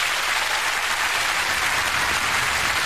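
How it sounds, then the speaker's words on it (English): A television studio audience applauds in a dense, continuous wash of clapping that stays loud and even from start to finish, with no voices over it. "Give her a nice big round of applause."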